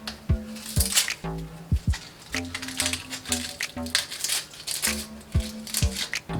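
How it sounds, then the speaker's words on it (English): White onions being chopped with a knife, a run of crisp, fairly close chops in an uneven rhythm over faint background sounds. "for this recipe, I'm chopping up about 3 size onions, white onions"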